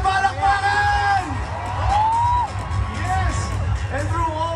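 An audience at a corporate brand event cheers loudly, with whoops and shouts rising over a dense crowd roar, and a voice calls out above it; the cheering is sustained throughout.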